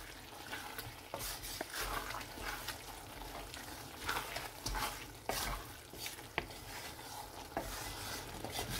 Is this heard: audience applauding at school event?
no